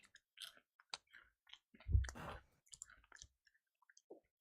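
Close, quiet crunching and clicking of someone munching Doritos chips, a few scattered bites and mouth sounds with one fuller crunch midway and near silence between.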